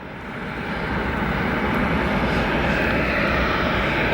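A United Airlines airliner sits on the tarmac at O'Hare Airport, its engines producing a steady, broad roar that swells slightly and stays loud throughout.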